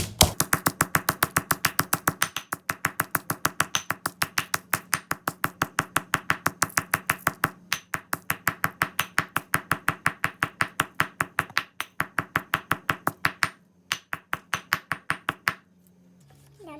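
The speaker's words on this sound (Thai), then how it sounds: "ใส่พริกลงไปตำพริกให้ละเอียดให้แหลก" Chilies are pounded in a mortar with a pestle for a spicy Thai dish, sounding as rapid, even, close thuds repeating about three times a second with brief pauses, then stopping near the end.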